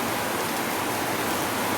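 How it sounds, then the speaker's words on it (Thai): A dense, constant hiss of heavy rain pouring down, even and unbroken, with no other sounds standing out. "ฝนตกหนักเลย ตอนนี้จ้า"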